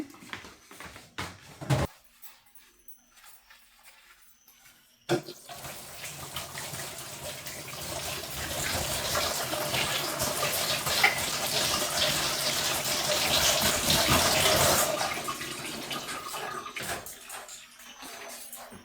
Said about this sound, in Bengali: না চামচটা ধুয়ে নিয়ে আসি